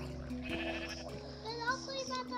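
Sheep in a video game bleat a few times in quick succession, moderately loud over a low, steady background hum with no talk.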